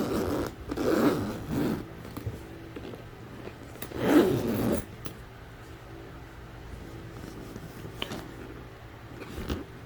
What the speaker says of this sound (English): So let's zip it up.